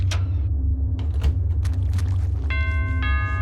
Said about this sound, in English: Oh, your ring bell is ringing.